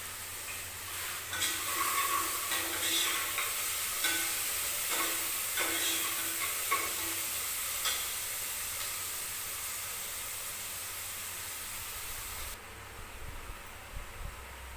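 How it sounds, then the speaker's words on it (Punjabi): Masala spices frying in oil with salt and chili, a steady close sizzle and hiss with soft stirring scrapes through the first half, settling into a quieter even sizzle. "ਲੂਣ ਮਿਰਚ ਪਾ ਕੇ ਆਪਾਂ ਮਸਾਲਾ ਭੁੰਨ ਲਿਆ ਚੰਗੀ ਤਰ੍ਹਾਂ ਤੇਲ ਛੱਡ ਦਿੱਤਾ ਮਸਾਲੇ ਨੂੰ"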